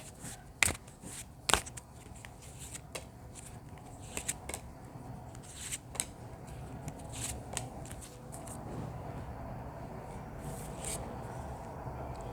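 Tarot cards from a deck are shuffled and drawn by hand, a few crisp flicks and slaps near the start followed by softer sliding and handling sounds, close but quiet, with no talking.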